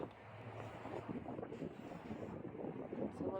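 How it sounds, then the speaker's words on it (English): Gusts of wind buffet the microphone outdoors on a windy day near a balcony and gazebo, a rough, fluctuating rumble that rises and falls for the whole span. "Because again, it is a windy day."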